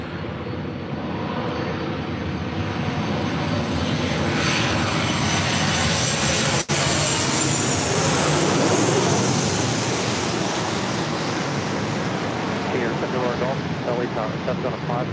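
Airbus A350 jet arriving at LAX, a steady loud rushing engine roar that swells in the middle and holds for the whole stretch.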